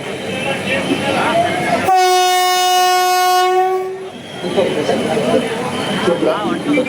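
Vande Bharat express train pulling into Yadgir railway station, its horn sounding one long, loud, steady blast in the middle, with crowd voices and station chatter before and after.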